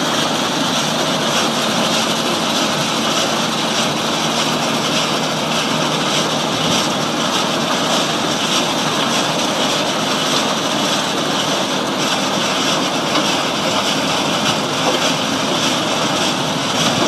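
A 1992 Maxigrind 425 horizontal grinder runs at full tilt, producing a loud, dense, roaring mechanical drone with a broad hiss that stays constant and unbroken, with no voices over it.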